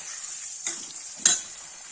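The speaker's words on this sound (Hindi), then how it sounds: "गाइस देखिए लौकी फ्राई होगी" Bottle gourd pieces frying in a pan give a steady, close sizzle, broken twice by sharp scrapes and clinks of a spoon stirring against the metal.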